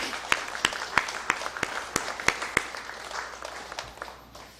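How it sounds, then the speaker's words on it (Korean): A church congregation claps during a worship service, a sparse scatter of distinct hand claps in a room that taper off and fade within a few seconds. "우리 감사의 박수 한번 드리겠습니다."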